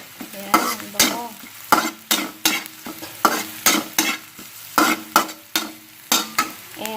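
Ginger fries in butter in a pan, with a soft steady sizzle under repeated scraping stirs of a utensil, close and fairly loud in an even rhythm.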